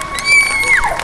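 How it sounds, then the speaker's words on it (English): A street audience in London cheers for a volunteer at a bed-of-nails performance: a brief burst of crowd noise with a rising and falling whistle-like whoop. "Give her another round of applause. Make her feel good, guys."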